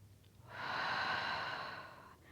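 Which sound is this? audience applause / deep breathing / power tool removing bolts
deep breathing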